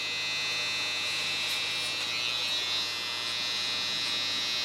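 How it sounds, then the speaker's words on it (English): A small electric hair clipper buzzing steadily while trimming short hair, a close, continuous high whine with slight wavering in loudness and no speech. "Go to my small clipper again."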